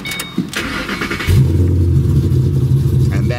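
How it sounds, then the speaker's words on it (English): A 2008 Ford Mustang Bullitt with a Borla exhaust starts up and revs, a deep, loud, close engine rumble holding steady after a brief lighter sound at the start. "that is a very nice sounding set of pipes on this car"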